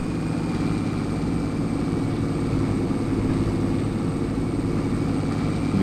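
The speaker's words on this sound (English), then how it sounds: "Listen to the engine whine." A loud, continuous engine drone with a steady whine runs throughout, unbroken and close by.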